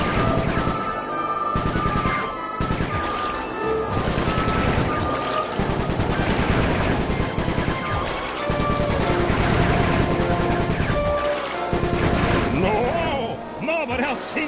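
Sustained machine-gun fire rattles on in an action video game as crew voices talk and shout over the continuous barrage, with engine rumble and explosions beneath.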